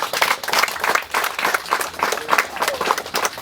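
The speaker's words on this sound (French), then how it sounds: "Je vous prie de m'emprunter vos mains en applaudissant" An audience at a diploma ceremony at the Institut Supérieur Technique de Bubanza applauds loudly, a dense near crowd of clapping that swells and eases in waves.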